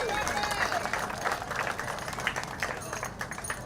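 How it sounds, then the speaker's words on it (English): Crowd applause and cheering at a junior quarter midget race, with steady clapping, scattered whoops and voices mixed in throughout. "Continue the applause, everybody"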